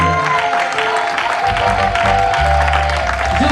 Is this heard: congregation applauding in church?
yes